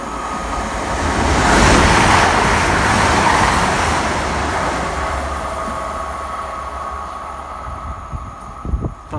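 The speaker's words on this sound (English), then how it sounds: "We've got a class 222 Meridian coming through at high speed on platform 1 at Loughborough" A Class 222 Meridian train races through platform 1 at Loughborough station at high speed, a loud roaring rush that swells, holds steady and slowly fades, ending in a few sharp rattles.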